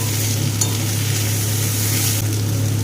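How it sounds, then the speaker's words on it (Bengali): Spices fry with ginger paste and chopped tomato in a steady, dense sizzle close by. A low hum runs underneath, with a couple of faint clinks of stirring and no voices. "এবার একসাথে সমস্ত মশলাকে ভালো করে ভেজে নেব।"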